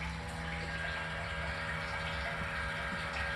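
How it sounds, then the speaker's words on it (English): Water filling a RODI tank: a steady, even rush of flowing water with a faint pump hum, continuous and close throughout. "Water will come up the tank to our top sensor."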